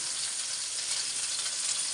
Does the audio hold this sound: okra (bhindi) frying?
yes